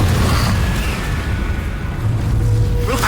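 A Confringo fire spell in Hogwarts Legacy detonates as a loud, dense booming blast with a sustained rumbling roar throughout the short moment.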